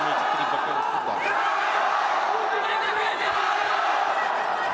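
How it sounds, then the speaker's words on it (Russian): Chinese fans cheer at a Russia versus China ACB kickboxing match, a steady, loud wall of crowd noise with shouts and chatter, and commentary running underneath. "Китайские болельщики опять активизировались."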